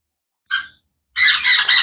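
Young sun conure chicks squawk up close: one brief harsh squawk, a pause, then a longer rasping burst of loud squawking.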